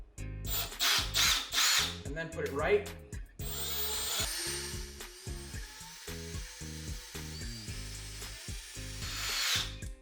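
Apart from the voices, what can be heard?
power drill making a pilot divot in a skateboard deck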